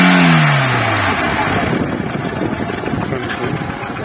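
A used car's engine runs at a cheap used-car market in Sumqayit, revving briefly at the start and then settling into a rough, steady idle, with faint voices in the background.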